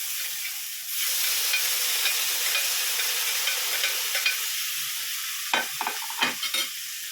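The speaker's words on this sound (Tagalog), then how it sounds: "Ito na yung ating mushroom. Luluto natin sa butter." Mushrooms frying in butter in a pan, a steady bright sizzle throughout with a few louder crackles and spatters near the end, close and alone without talk.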